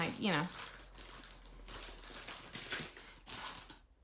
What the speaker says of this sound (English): Boy, that's a loud plastic bag.